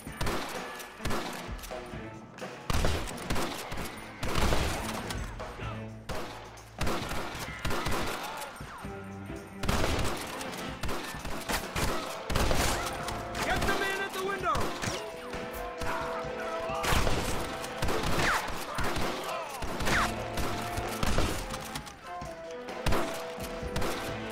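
Shootout in the western game Red Dead Redemption, with dense, continuous gunfire made of sharp repeated shots and crashing impacts, loud throughout, and shouted voices faintly mixed in.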